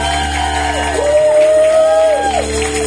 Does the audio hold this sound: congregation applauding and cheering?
yes